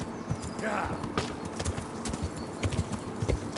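Horse hooves clop in a steady walking rhythm in the video game Kingdom Come Deliverance, close and clear, with a brief whinny early on and someone talking over them.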